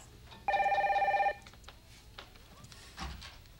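A telephone bell rings once in a short burst of less than a second in a quiet room, followed by soft rustling and a small thud.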